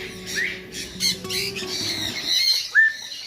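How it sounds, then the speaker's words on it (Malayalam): Assorted birds in an eco park aviary give sharp, scattered squawks and chirps, with one louder shrill call near the end over a steady background hum. "ഇതിൻ്റെ മുകളിൽ വിവിധതരം കിളികളുണ്ട് ഇഷ്ടംപോലെ കിളികളുണ്ടോ"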